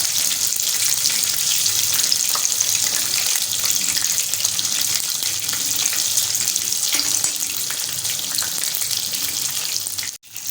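Finger fish frying in hot oil, a loud, dense, continuous hiss and crackle up close that cuts off abruptly near the end, no talking.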